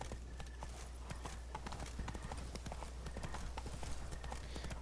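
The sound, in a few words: horse Roach trotting, clip-clop, from video game The Witcher 3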